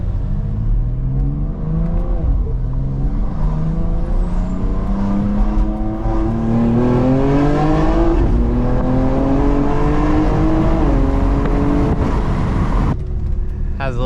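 BMW X3M engine with boost turned up, accelerating hard on a hot day through repeated gear shifts, a loud rising engine note that drops at each shift and climbs again, close and continuous for about thirteen seconds.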